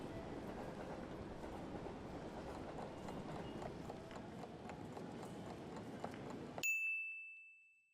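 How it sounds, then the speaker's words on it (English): Train station ambience: a busy, reverberant hum with faint footsteps and clatter runs steadily, then cuts off abruptly before a single bright chime rings out and fades. "You are at a train station"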